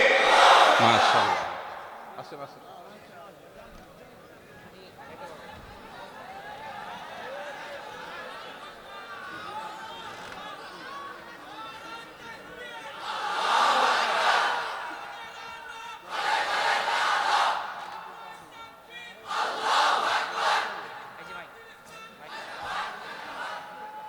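A large gathering at an Islamic sermon answers the Nara-e-Takbir call with roaring collective shouts of Allahu Akbar, several loud surging bursts separated by quieter stretches of murmuring and a speaker's voice.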